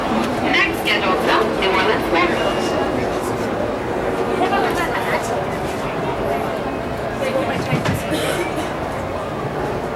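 Disneyland Railroad train running with a steady rumbling roll and faint clickety-clack, while an announcer's voice and crowd chatter sit over it throughout.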